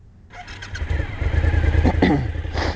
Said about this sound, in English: I'm going to pull the clutch lever in and push the start button until it starts.